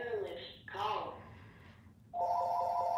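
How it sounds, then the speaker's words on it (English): A phone ringing during a live bead-weaving stream, a steady tonal electronic ring that comes in near the end after stretches of talking. "Sorry about the phone"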